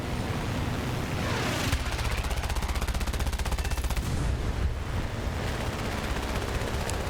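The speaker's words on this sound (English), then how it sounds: "Surprised they die that easily to just machine gun fire." Rapid machine gun fire from an aircraft strafing ground targets in War Thunder, a dense continuous rattle of bursts under engine and battle noise, loud throughout.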